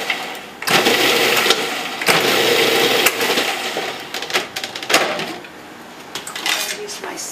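A food processor pulses a spring roll filling in several short bursts of whirring and chopping, alternating with brief pauses, with a person talking at times.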